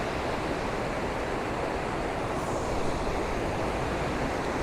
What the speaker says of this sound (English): So you've got this river just running all the way up towards the mountain.